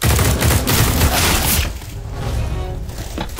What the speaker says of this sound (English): I hear a lot of gunshots